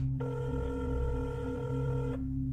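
A telephone line gives off a steady electronic tone as the receiver is lifted to place a call. The buzz holds for about two seconds over a low hum, then cuts off.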